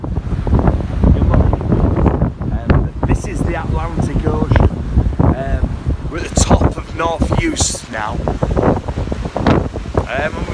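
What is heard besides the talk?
strong wind on the Atlantic coast of Scotland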